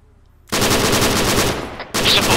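A heavy machine gun fires in the military video game Arma 3: a close, loud burst of rapid automatic fire for over a second, a brief pause, then another burst.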